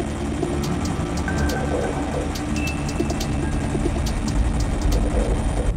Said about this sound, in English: Once the helicopter has landed at the scene